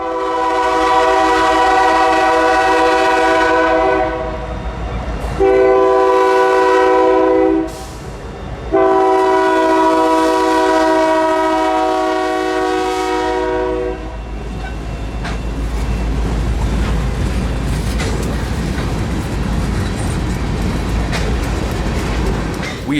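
A freight train led by an EMD SD50 locomotive blares its horn in long repeated blasts, then the heavy rumble and clatter of rolling cars carries on steadily as it passes.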